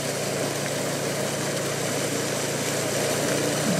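A motorbike engine chugs along at a steady low idle on a flooded suburban street in heavy rain, with a constant rush of water and rain noise layered over the close, even rumble.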